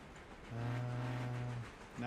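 A train horn in the railroad game Railroader sounds one long steady low blast, then starts a second, over a faint rumble, with no talking.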